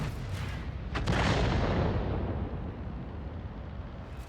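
A self-propelled artillery gun fires in World of Tanks, a single heavy boom that swells into a broad, rumbling blast and slowly fades.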